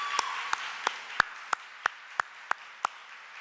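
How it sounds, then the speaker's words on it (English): Students clapping for scholarship donors at a university reception, a sparse, slow run of about nine distinct claps spaced evenly, fairly faint in a quiet room. "I would like our students now who are here to applaud our donors who have supported scholarships"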